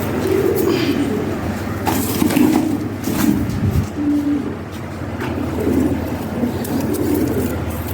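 Domestic pigeons coo in low, rolling bursts at a Dhaka pigeon market at Dholaikhal, several birds close by with repeated throaty calls over steady background bustle.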